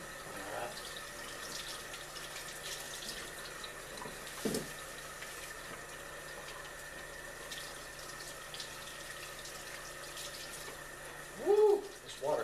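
A kitchen tap at a cabin runs in a faint, steady stream, a quiet continuous hiss with a brief louder splash near the end and no talking.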